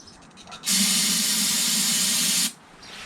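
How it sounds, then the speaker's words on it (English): A loud, steady aerosol hiss of ether starting fluid sprayed into the intake of a Honda Harmony HS520 snowblower engine, continuous for about two seconds, starting and stopping abruptly, close by. "We'll spray some ether in there."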